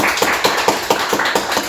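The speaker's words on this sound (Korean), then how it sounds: "우리 박수로 환영해 주시기 바랍니다" Congregation clapping in a church service to welcome a visiting brother from Cheongju, a dense rhythmic patter of hands that is close and fairly loud, with no talking over it.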